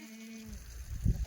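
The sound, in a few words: goats bleating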